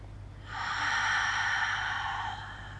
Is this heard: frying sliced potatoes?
no